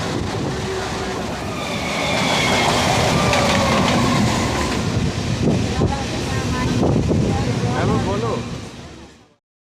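A Howrah–Bardhaman main line local train pulls into Palsit station, its carriages rumbling and rattling steadily against heavy wind buffeting before the noise cuts off abruptly.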